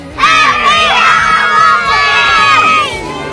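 A large crowd of adults and children at an outdoor PumpkinFest waiting for a parade shouts a festive greeting in unison. It is a loud, sustained cheer that swells and trails off.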